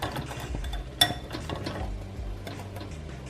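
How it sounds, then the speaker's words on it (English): A spoon stirs melting chocolate in a glass bowl set over a pot, making scraping and occasional clinks against the glass, close up and moderately quiet, with no voices. "you add your glass on top, so you can stir it and all your chocolate can melt"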